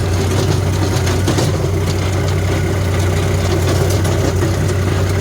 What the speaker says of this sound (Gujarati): અડધો આરપીએમ ડ્રોપ કરે છે ટ્રેક્ટર